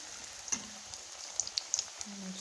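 Small filled briouat pastries fry in hot oil with a soft, continuous close sizzle and occasional sharp pops and spits. The sound is fairly quiet, with no talking.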